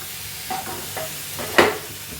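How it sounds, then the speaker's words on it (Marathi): Spiced mushroom masala being sautéed in a pan, with a soft steady sizzle broken by a few spatula scrapes and stirring strokes, the last one louder and closer; no voices. "आता हे चांगलं एक चार पाच मिनिटं चांगलं परतून घ्यायचं आहे"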